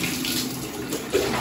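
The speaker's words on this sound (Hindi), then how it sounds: "यहाँ पर मनु को नहलाया जा रहा है" Water is poured while a child is being bathed, a continuous close splashing stream for a second or so with a small splash near the end.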